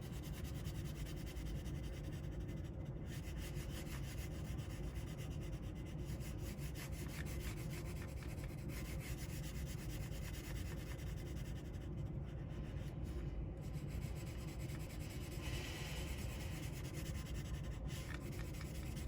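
Graphite pencil shading and blending on paper, a steady, soft, continuous rubbing close to the mic with no pauses and no voice.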